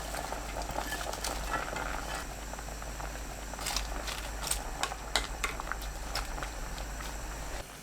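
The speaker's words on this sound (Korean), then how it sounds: "다진 마늘 반큰술, 국간장 1큰술, 굵은 소금 반큰술, 양배추 넣고 센 불로 2분 끓여주세요." Cabbage with minced garlic, soup soy sauce and coarse salt boiling hard over high heat, a constant bubbling simmer with scattered pops and clicks, close and steady with no talk.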